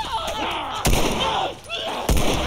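Two sharp gunshots ring out about a second apart in The Last of Us Remastered, each a loud broadband crack over a busy game soundscape with creature noises between them.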